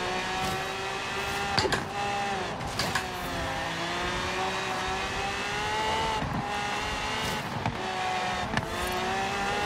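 A modded Lamborghini Centenario races and drifts in Forza Horizon 3, its engine holding a loud, steady high whine that shifts pitch slightly, with a few brief bursts and thumps over continuous road noise.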